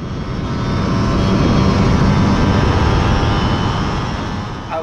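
A Lambretta TS1 scooter engine on a test ride gives a loud, steady, buzzing roar close to the microphone, swelling slightly mid-run and easing at the end, with wind rush mixed in.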